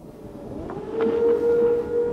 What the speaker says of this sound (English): the air raid siren was sounded